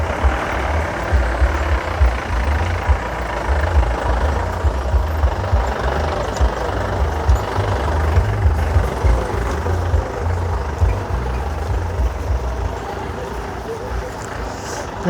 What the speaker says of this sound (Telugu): మామూలు అంటే మామూలు ట్రాఫిక్ లేదు